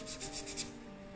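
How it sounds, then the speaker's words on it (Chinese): A wooden spatula edge is rubbed on 600-grit sandpaper in five quick, even rasping strokes, close and fairly soft, then stops. "放到600目砂纸上打磨木刮刀的边缘部位"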